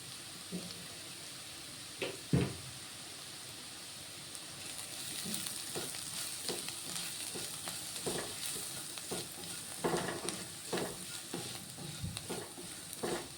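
Stirring cabbage with chicken masala, garam masala, turmeric and chilli powder in a hot pan for egg noodles, with scraping spoon strokes in an irregular rhythm over a soft steady sizzle, close and without talk.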